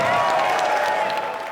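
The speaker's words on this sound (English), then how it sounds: "The biggest cheer of the night always comes from this line." A crowd at a Conservative leadership campaign speech in Canada applauds and cheers in a dense, loud, sustained roar that tapers slightly at the end.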